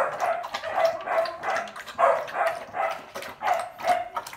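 A female Canary Mastiff (Presa Canario) of the Atlas short-eared line barks repeatedly in a steady rhythm, about eight deep, close barks, with no talking.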